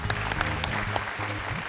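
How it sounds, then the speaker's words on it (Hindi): Audience applause welcoming a judge on a dance competition show, a short continuous burst of clapping at steady loudness mixed with music. "जोरदार तालियां हो जाएं प्रीति जी के लिए"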